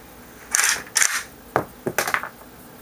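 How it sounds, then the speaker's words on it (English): A Kalashnikov rifle's operating handle is pulled back, giving a short series of crisp metallic clicks and clacks close by, with no talking. "pull the operating handle back to extract and eject any round which may be in the chamber"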